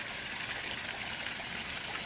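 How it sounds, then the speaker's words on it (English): Water pouring from a backyard pond waterfall, a constant close rushing splash with no breaks and no talk. "Water coming from the waterfall."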